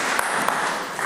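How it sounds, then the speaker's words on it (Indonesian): Brief, dense applause from a church audience for a performer named Kokoselo, steady clapping filling the whole moment without voices. "tepuk tangan buat Kokoselo"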